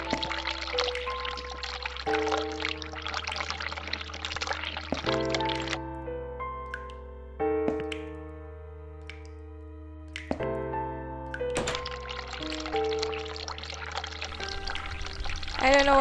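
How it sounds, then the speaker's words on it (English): Hot water runs from a bathroom tap in the video game The Cat Lady, a steady pouring stream over sustained, eerie musical tones that swell and drop away before the flow returns. "Let's run hot water"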